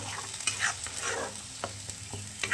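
Paneer butter masala gravy is stirred in a pan after a splash of water, giving a soft continuous sizzle broken by several quick scraping strokes of the spoon, close and fairly quiet, with no voices.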